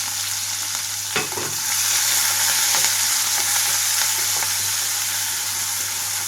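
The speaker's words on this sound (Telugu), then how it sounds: "కట్ చేసి పెట్టుకున్న ఉల్లిపాయ ముక్కలు అలాగే పచ్చిమిరపకాయ ముక్కలు వేసేస్తున్నాను." Chopped onion and green chilli fry in hot oil in a pan, giving a steady close sizzle with a few scraping strokes of stirring, alone without talk.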